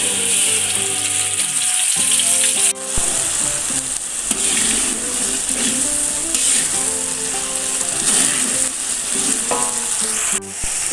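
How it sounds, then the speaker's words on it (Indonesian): Chili peppers frying in a hot pan of oil with a loud, continuous sizzle, broken by stirring scrapes and a few sharp clanks, with music playing underneath. "Sekarang kita goreng cabenya."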